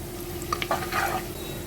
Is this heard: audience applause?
no